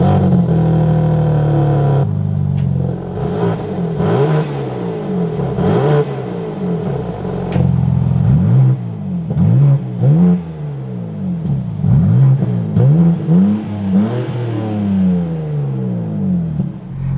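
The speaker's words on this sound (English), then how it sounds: "we can take a listen to that exhaust" A 2023 BMW M4 CSL's exhaust revs repeatedly, loud and close, the engine roaring up and dropping back in rapid surges over a steady idle.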